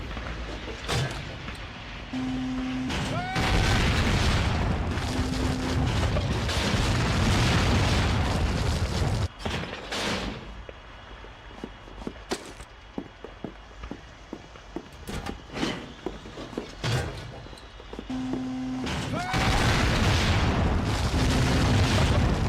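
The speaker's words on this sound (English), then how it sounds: "Why blow up a theater like that?" Artillery shells blowing up a theater in the Call of Duty: Finest Hour video game: heavy booming blasts in bursts near the start and end, with scattered thuds, debris clatter and footsteps between them.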